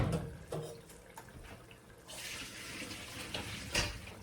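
Water from a seafood boil being poured off, a quiet splashing stream that swells into a steadier rushing pour partway through, with a few clunks of the pot.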